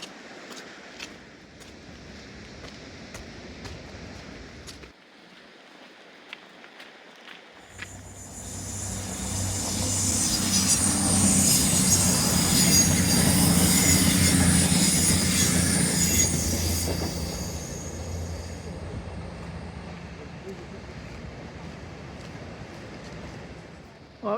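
A train passes along the Dawlish seawall, rumbling and clattering as it builds to a loud, close roar, with squealing wheels. The noise holds for several seconds, then fades. No horn stands out clearly.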